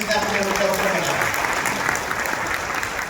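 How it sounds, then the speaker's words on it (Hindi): Audience at an extension officers' meeting bursts into steady, loud applause that fills the whole stretch, with a voice briefly audible near the start. "तो जिसने बनाया उसके लिए जोरदार तालियां होनी चाहिए"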